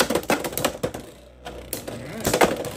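A Beyblade BX-27 Sphinx Cowl top rips from its launcher into a plastic stadium, then clatters and rattles in quick, dense clicks close by, with a brief lull midway.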